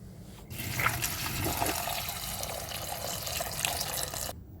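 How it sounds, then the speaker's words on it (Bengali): Water streams steadily into a cooking pot holding a small portion of peas, a close, continuous pouring rush that starts abruptly and cuts off near the end, with no talk. "তো পানি দিয়ে নেব"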